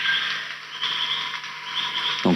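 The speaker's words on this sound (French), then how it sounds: "Donc tititi, ça c'est la grenouille." Frog calling in the Amazon rainforest, a thin, high-pitched run of rapid chirping notes that rises and fades in short bursts over a faint low background, ending with a soft thump.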